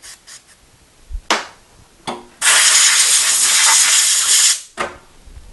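Compressed air blasts off a cleaned 700R4 transmission part in a sustained loud hiss of about two seconds, framed by several short sharp air bursts before and after.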